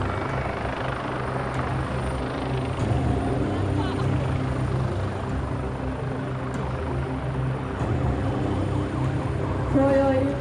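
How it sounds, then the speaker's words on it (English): A military helicopter airlifting special forces off a ship at a maritime show, its steady rotor thump and turbine whine holding throughout at moderate distance, with a public-address voice and crowd murmur faintly underneath. "The special forces are then airlifted off the ship and flown to safety."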